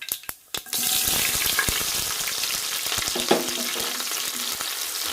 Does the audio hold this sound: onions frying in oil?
yes